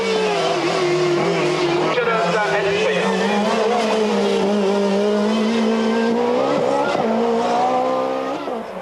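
A rare ex-Group B Lancia Delta S4 with a mid-mounted 400-horsepower supercharged engine at a hill climb, loud and close, its engine holding a steady strained howl with a whining supercharger tone as revs rise and shift.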